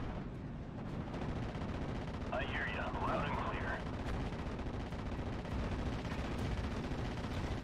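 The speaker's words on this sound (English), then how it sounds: "As soon as the CGMC starts firing, we might actually shoot that down." An anti-aircraft vehicle fires in the World War II strategy game Steel Division: Normandy 44, a dense, continuous roar of rapid gunfire and battle noise holding steady and loud from start to finish, with a voice briefly audible in the middle.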